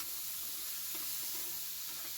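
Onions, eggs and tomato fry in a pan, a quiet, close, continuous sizzle with soft stirring scrapes and no talk.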